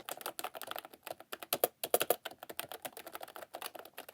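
A cheap wireless computer keyboard is typed on in a quick, uneven run of light clicky keystrokes, close and fairly quiet.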